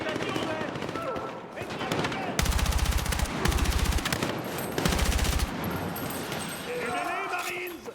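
Battlefield 6 game soundtrack carries bursts of simulated automatic gunfire, loud rapid rattling volleys in three long strings, set against music and ambient battle noise.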